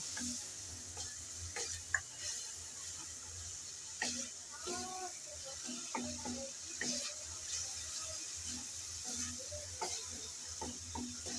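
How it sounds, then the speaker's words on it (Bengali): Spice paste for a rohu fish curry with potatoes stirred and fried in a pan after water is added, giving a steady sizzle with repeated scraping stir strokes and light clinks, close and fairly quiet. "আবারও আরেকটু পানি দিয়ে আবারও দুই মিনিট কষিয়ে নেব এভাবে নেড়ে চেড়ে দুই মিনিট কষিয়ে নেব"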